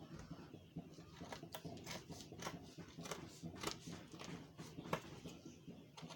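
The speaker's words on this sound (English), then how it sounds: "So I'm cutting out the back neck line first" Scissors snip through lace fabric while cutting the back neckline of a yoke for a high-neck flare dress: a close, quiet series of crisp, irregularly spaced cuts with no talking.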